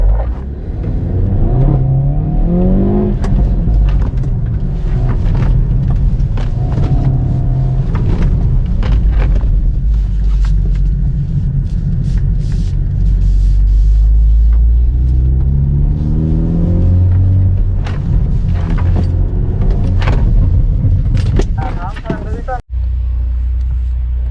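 Hyundai Veloster N with 8-speed DCT on the Yongin race circuit, engine loud and close as it accelerates through rising and falling revs with quick gear shifts, with people talking over it.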